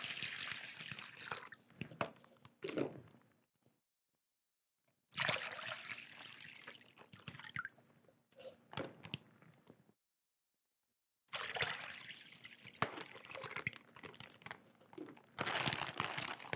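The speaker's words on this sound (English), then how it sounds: "So into the bag with the pork loin, we put in 1 gallon of water." A gallon of water pouring in several long gushes into a crinkling plastic bag holding a pork loin, with brief pauses between pours and rustling as the bag shifts.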